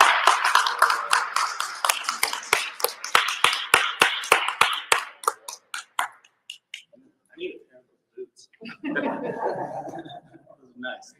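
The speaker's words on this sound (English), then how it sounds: "give him a round of applause." A small live podcast audience claps for guest Gavin Dixon, a brisk burst of clapping that thins out after several seconds before a person begins talking.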